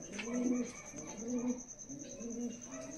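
Several pigeons coo in a close, steady chorus of low repeated calls, with a faint high tone running underneath; the birds are a Malwai flock at a village loft in Lachheda, Muzaffarnagar.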